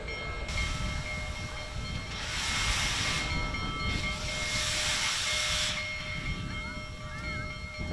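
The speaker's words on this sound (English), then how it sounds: "It's just a massive locomotive." A massive 600-ton, 7,000-horsepower Big Boy steam locomotive on the move: a steady heavy rumble with two long, loud bursts of steam hiss and a faint tonal whine riding above.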